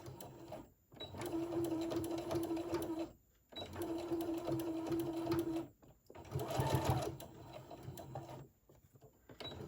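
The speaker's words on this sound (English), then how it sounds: "I'm going to go ahead and get this sewed straight." A sewing machine stitches elastic onto a fabric face mask, running in three bursts of steady whirring, each a couple of seconds long, separated by short quiet pauses, fairly faint and close.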